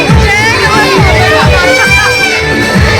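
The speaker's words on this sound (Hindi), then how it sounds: "बहुत भीड़ है, बहुत ज्यादा।" A dense, noisy crowd packs a Janmashtami procession, a constant loud babble of many voices with occasional shouts and cheers, close and surrounding.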